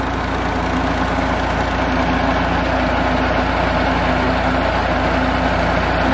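A farm tractor engine runs steadily at an easy idle-like pace in Punjab, turning a shaft that drives two tubewell pumps; the low, continuous drone with broadband mechanical rumble stays loud and close throughout, with no voices.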